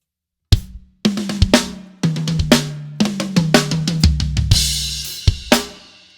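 A drum kit rolls through a fill of 16th note triplets, loud and close, with rapid tom and snare strokes, punctuated by bass drum hits and ringing cymbal crashes.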